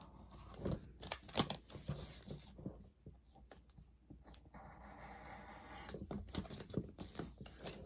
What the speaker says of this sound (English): Trace it, use your scissors.